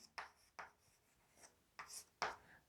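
Chalk or marker strokes on a board during a Hindi-language physics lecture on Coulomb's law, several quick scratchy strokes in separate bursts, fairly close and faint, with no talking.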